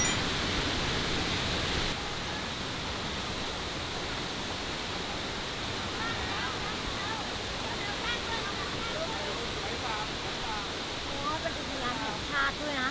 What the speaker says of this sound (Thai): เป็นน้ำตกอุทยานแห่งชาติอ่ะ